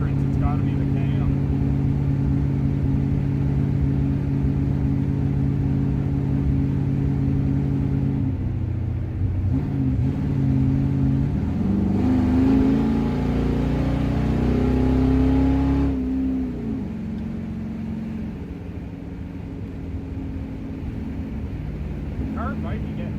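1966 Oldsmobile 88 with a 425 big block engine and a poorly running vacuum secondary carburetor, a steady loud rumble that rises in pitch as it revs midway, then eases back to a lower drone, with someone talking over it.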